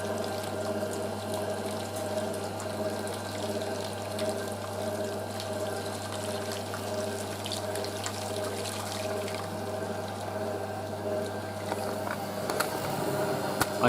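A Hotpoint 9530 Electronic 1000 Plus washing machine drains water on programme 5, with a steady rushing flow over a constant pump hum. It sounds close and continuous throughout.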